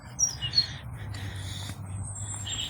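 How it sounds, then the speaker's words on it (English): Birds chirp outdoors along a muddy walking path: a few sharp, bright tweets near the start, then scattered fainter calls over a low steady hum of background noise. "You can just listen to the birds for a second"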